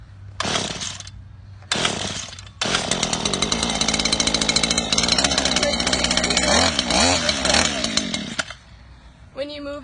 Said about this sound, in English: Once you get it started, the choke should come off and you should be good to go.